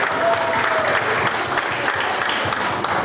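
Sustained applause from a crowd at a youth festival competition in Aligarh, India, a steady dense patter of clapping filling the room for the whole stretch.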